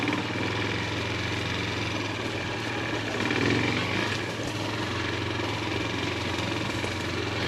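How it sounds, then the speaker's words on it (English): A carbureted Bashon Brozz Recon motorcycle engine idles outdoors, a steady, close, low thrum with a faint rattle holding evenly throughout, no voices. "Gotta love these carbureted engines."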